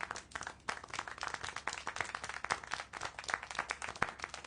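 A small crowd claps and applauds continuously, dense overlapping hand claps with sharp individual slaps standing out, fairly close, with no talking.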